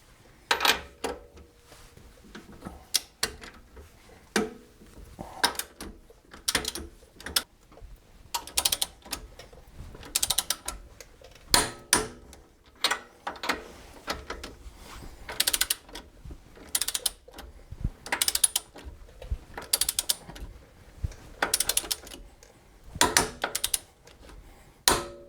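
A hand ratchet clicks in quick bursts of pawl ticks, with short pauses between strokes, while strut nuts and bolts on Megan Racing coilovers fitted to a Pontiac GXP are tightened. The sound is close and dry, with faint metallic clinks.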